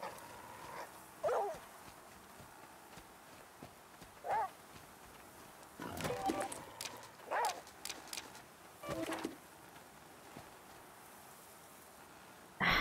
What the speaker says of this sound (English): If it's not wolves, it's boars.